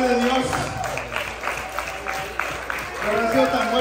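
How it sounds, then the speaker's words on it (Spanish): A church congregation applauds in a lively, dense patter of clapping that carries steadily throughout, with voices cheering and calling out over it. "Aplauso a la gloria de Dios."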